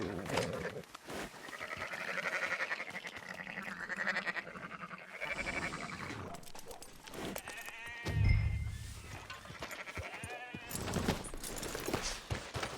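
Sheep bleat several times amid busy background noise in the video game Red Dead Redemption 2, with thumps and a low rumble; the bleats stand out fairly clearly over the din.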